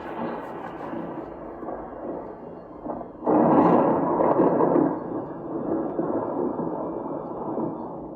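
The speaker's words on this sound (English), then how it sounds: "every 3 seconds or so, I will get another lightning effect" A synthetic thunder effect from a Philips Hue Halloween lighting app rolls in a low, rumbling surge that swells suddenly, then fades gradually over a steady background roar.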